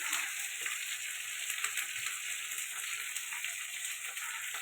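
Tomato, ginger-garlic paste and turmeric fry in a pan for a cauliflower, potato and egg curry, giving a steady, close, dense sizzle that never lets up, with no voices.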